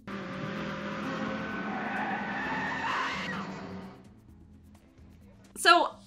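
A truck skids with a long, loud tire screech lasting about four seconds before dying away, followed by a brief sharp high burst near the end.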